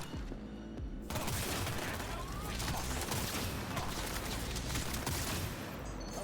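Sniper rifle gunfire in Cyberpunk 2077 during a close-quarters fight, a dense run of sharp shots and impacts after a brief quieter lead-in, loud and sustained with combat noise throughout.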